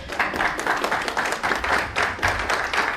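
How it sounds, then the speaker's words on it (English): An audience at a community forum gives a steady round of applause, with dense overlapping claps in rhythmic surges that stay fairly close and even throughout. "Let's give them a round of applause."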